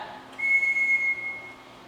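A single sustained whistle from the captain in a school stage production of The Sound of Music calling the children, one steady high note lasting about a second over a quiet room.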